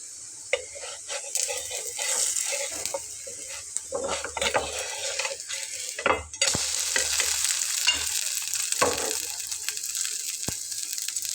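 A breakfast tiffin snack made with egg yolk fries in a little oil, giving a steady sizzle broken by scrapes and stirring clatter from a spatula in the pan.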